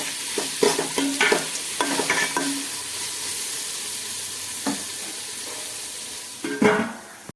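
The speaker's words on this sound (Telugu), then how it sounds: "ఇప్పుడైతే టమాటాలను కూడా వేసుకొని మొత్తం ఒకసారి అయితే మగ్గించుకోవాలి" Tomatoes stirred into hot ginger-garlic paste in a cooking pot, a steady sizzle under repeated scraping strokes of a spoon, close and fairly loud.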